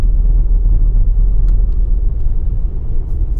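A 2018 Ford Transit Custom 2.0 EcoBlue 300 Limited van is driving, heard from inside the cab as a steady, loud, low road and engine rumble with no pauses.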